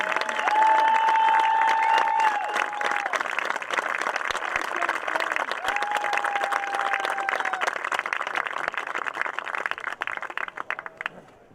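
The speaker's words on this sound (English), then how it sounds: "a big round of applause for the Class B New York State champion" A crowd at a senior all-star game applauds and cheers the Depew Wildcats, Class B New York State champions, with loud, sustained clapping and long whistle-like tones rising above it before the noise thins toward the end.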